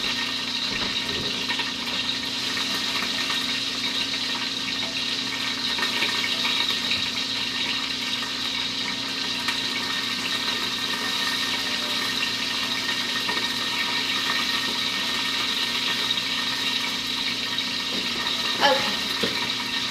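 Vegetables being washed under a running kitchen tap, a steady rush of water that continues unbroken throughout, loud and close, with a brief clatter near the end.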